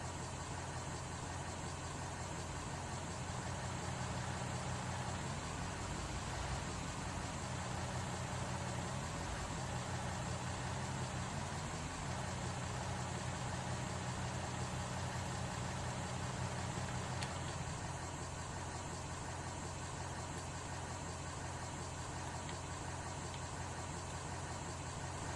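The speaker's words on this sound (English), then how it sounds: "idle up that engine and get the blade turned on" In Farming Simulator 19, an engine idles up while a brush hog blade spins, giving a steady, dense mechanical drone that holds level for the whole stretch, with a slight rising whine early on.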